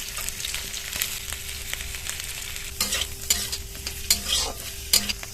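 Boiled potatoes mashed and stirred into hot oil in a pan for a mini samosa filling: soft sizzling under intermittent scraping and stirring strokes, with a faint steady hum behind.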